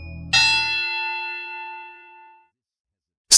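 A notification bell sound effect: one bright metallic ding strikes loudly and rings out with a long, slowly fading shimmer over about two seconds, after a brief low tone, with a sharp click at the very end.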